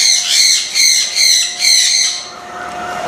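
A pet parrot gives a run of loud, harsh squawks close by, four bursts in quick succession before fading, with no talking.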